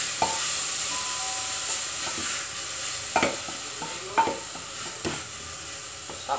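Onion and garlic fry in a pan for low-carb zucchini soup, a steady moderate sizzle with a faint high hiss and a handful of sharp utensil scrapes spaced across the clip.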